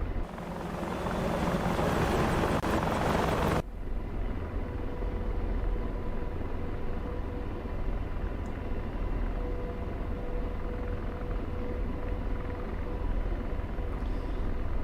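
An AH-64D Apache attack helicopter in the DCS flight simulator thrums steadily, with a louder, broader rotor and engine roar for the first few seconds before settling into a constant cockpit drone with no voices.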